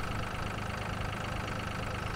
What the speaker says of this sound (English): My tractor's breaking. I hear it puttering.